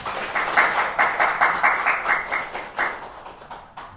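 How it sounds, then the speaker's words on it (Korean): Church congregation applause at a Sunday worship service, a loud burst of clapping that settles into rhythmic, pulsing claps and fades toward the end. "박수 한번 주세요."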